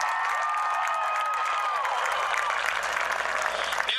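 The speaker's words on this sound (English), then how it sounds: "Continue to cheer him on." A crowd applauds and cheers at an outdoor Special Olympics torch-lighting ceremony, sustained dense clapping with whistles and shouts that stays loud and steady throughout.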